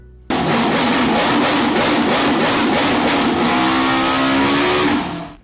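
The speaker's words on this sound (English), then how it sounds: "Renault rev the RS27 V8 engine of Red Bull." A loud Renault RS27 V8 Formula 1 engine from a Red Bull car revs hard and holds a screaming high pitch, its tone rising and falling in rapid pulses before cutting off.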